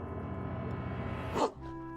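A dog in the video game Hiveswap lets out a single short bark near the end, set over steady in-game music.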